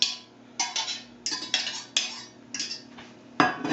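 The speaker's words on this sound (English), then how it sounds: "Get your wife or your husband to beat 2 eggs." Two eggs being beaten in a bowl for Yorkshire pudding batter, a utensil clinking against the bowl in quick rhythmic bursts of scraping, tapping strokes with short pauses between, close and fairly loud.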